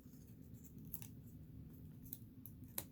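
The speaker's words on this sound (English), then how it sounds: "Just take scissors and just snip around your edges" Scissors snip around the edges of paper in a quiet room, with a few sharp, separate cuts over a low background hum.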